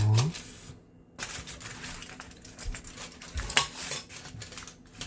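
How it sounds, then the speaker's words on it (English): A metal spatula scrapes and clinks against a baking tray while prying off baked high-protein pepperoni pizza Hot Pockets, giving quiet, intermittent scraping and tapping with short pauses. "So we'll just take your spatula, just kind of peel them off."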